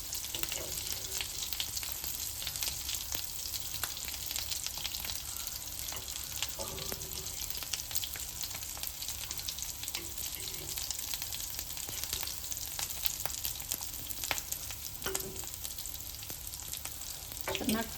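Sweet potato wraps fry in a pan in batches, a dense continuous crackling sizzle held close, with occasional light clicks of a spatula as they are flipped.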